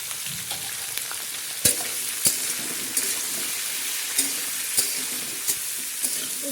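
Vegetables fry in a pan with salt and turmeric, a steady sizzling hiss broken by regular clicks and taps of a spatula stirring against the pan.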